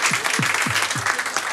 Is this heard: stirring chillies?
no